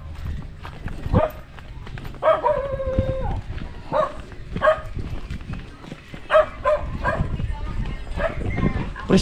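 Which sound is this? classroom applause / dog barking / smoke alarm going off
dog barking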